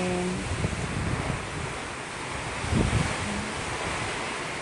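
Strong wind from Typhoon Tino roars steadily as a dense, unbroken rush with the low buffeting of wind on the microphone, swelling slightly near the end.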